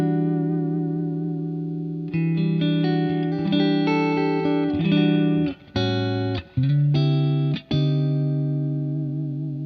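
Electric guitar on a clean tone through a 1967 Deluxe Reverb amp with a touch of spring reverb, sustained chords ringing out, then a few short choppy strums with brief gaps near the end.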